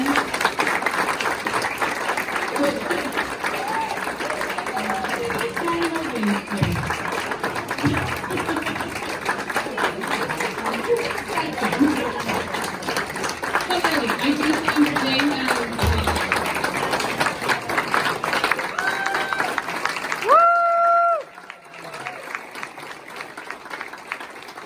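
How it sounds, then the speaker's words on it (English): Crowd applause at a hot air balloon festival awards event outdoors, a long continuous wash of many people clapping with voices and cheers mixed in, fading out near the end. "If you guys can give them a round of applause."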